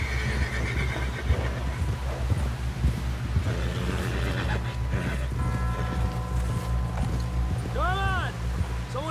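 In Red Dead Redemption 2, a horse's hooves clip-clop beneath a low rumble and voices talking, then a loud whinny rings out near the end.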